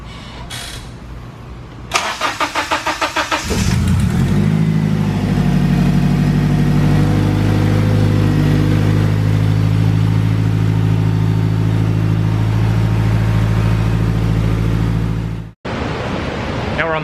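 A K20-powered custom race car revs on a dyno during boost runs. After a few sharp blips, the engine holds a loud, sustained high-rpm roar for about eleven seconds, then cuts off abruptly.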